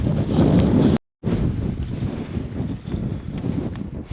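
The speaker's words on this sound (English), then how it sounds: "that wind is strong" Strong wind on a snowy Cairngorms mountain buffets the microphone in loud, gusting rumbles, cutting out for a moment before roaring back.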